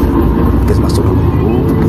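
A car engine works hard climbing an extremely steep incline with drop-offs on both sides, a steady loud engine drone throughout with a voice talking over it.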